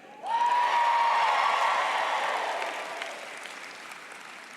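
A large graduation ceremony crowd bursts into cheering and applause all at once, with a high whoop riding over the clapping, then the noise slowly tapers off while staying loud.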